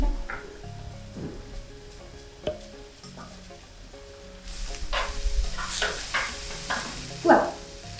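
Mixed vegetables with carrots being stir-fried in a hot pan, a steady sizzle that builds and gets louder partway through, marked by a few sharp scrapes and clinks of a utensil against the pan and no talk.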